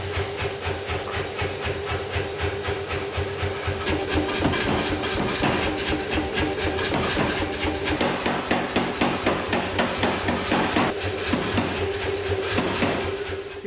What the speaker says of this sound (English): we'll draw the rest out under the power hammer